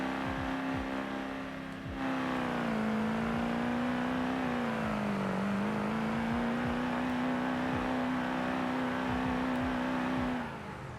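Truck engine in a video game, revving steadily as it climbs a hill, a loud continuous drone that rises and dips in pitch before cutting off near the end.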